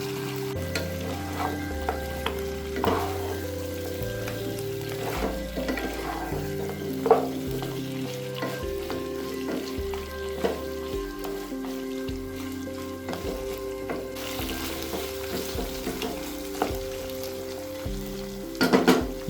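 Partly cooked mutton pieces frying and being turned in a pan for mutton pepper fry: a continuous sizzle with scattered clinks and scrapes of the spoon, under steady background music with no talking.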